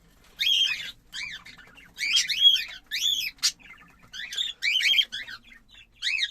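Young cockatiels chirp in bright, repeated bursts of high tweets, several short squawky calls following one another with brief pauses, close and clear against a quiet background.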